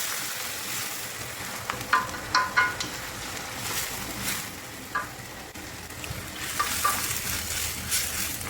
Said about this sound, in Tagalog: Titimplahan na po natin ng toyo.